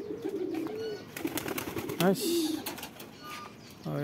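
Domestic pigeons kept on a Bangladeshi rooftop coo close by in repeated throaty phrases, with soft rustling and faint movement between calls.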